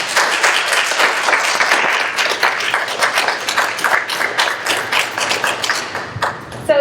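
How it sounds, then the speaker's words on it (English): An audience at an exhibition event claps in a dense, steady round of applause lasting several seconds, loud and close, with no talking over it. "Can we give her another round of applause?"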